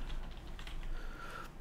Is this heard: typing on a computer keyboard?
yes